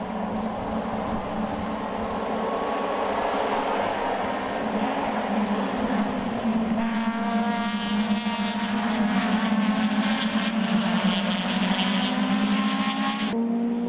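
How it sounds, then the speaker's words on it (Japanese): Group 2 race cars roar away at the start of round 4 of the 2017 Super Taikyu endurance series at Autopolis, with several loud engines revving and climbing through the gears in a dense, continuous wall of sound. "スーパー耐久シリーズ2017第4戦 TKU スーパー耐久レース in オートポリスグループ2レーススタート"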